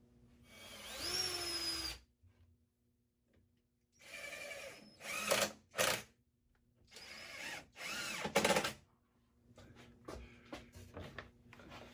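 A power drill drives screws into the wooden legs of a sandbox in several separate bursts, each whirring up in pitch then stopping, close and clear with quiet gaps between.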